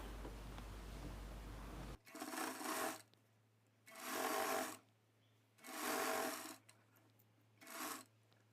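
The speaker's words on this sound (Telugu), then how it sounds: "ఈ ఫోల్డింగ్ని తీసుకొచ్చి ఈ కుట్టు మీదకి ఇలా పెట్టి స్టిచ్ చేసుకోవడమే" A sewing machine stitches the lining of a blouse in four separate close bursts of even whirring, each about a second long, with quiet pauses between them.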